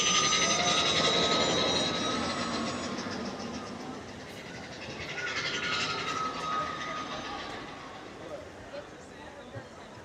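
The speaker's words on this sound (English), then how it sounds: "I hear the train a-coming." The Disneyland railroad train approaching at night in the park, a broad rumbling roar with a high whining tone that swells, fades and builds again, heard from a middle distance under crowd noise.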